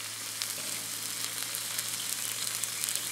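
Red squirrel meat sizzles in a hot pan with a steady, close frying hiss and a light crackle, continuous and even throughout, with no speech.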